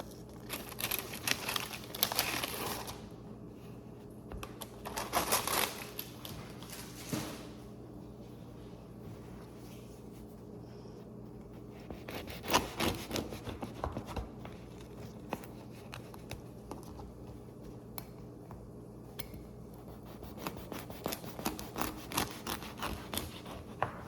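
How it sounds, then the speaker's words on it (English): A knife saws through a sourdough loaf, cutting slices for a bacon grilled cheese, with rough crinkling, rasping strokes in bursts, some close and loud, between quieter pauses. "I'm going to start cutting slices of bread. And I chose sourdough for this."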